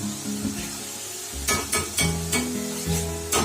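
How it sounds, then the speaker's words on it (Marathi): Ground masala paste for a chicken curry sizzles and spits in hot oil, a steady frying hiss broken by several louder sputtering bursts as it is stirred. "आधी हा तेलात जरा भाजून घ्यायचं बघा तेल सुटायला लागलं आहे ना"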